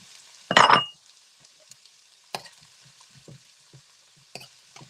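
Red peppers and white onions hit a hot pan with a short, loud burst of sizzle, followed by a quiet low crackle and a few light clinks of cookware, with no talking.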